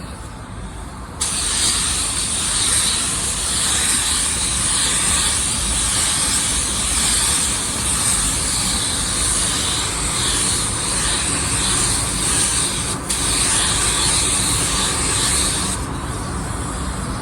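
A spray gun lays a second coat of paint onto a car bumper, a steady close hiss of atomized spray running almost without pause for over fifteen seconds, with a brief dip near the end and a low rumble of background noise underneath.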